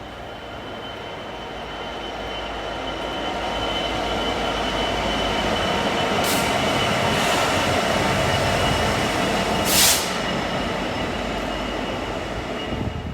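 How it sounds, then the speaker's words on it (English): LNER passenger train pulling into a platform at Doncaster station, a loud, steady rolling rumble that builds as it nears, with a couple of brief high squeals from the wheels. "Into platform 1, the 1247 LNER service to London King's Cross."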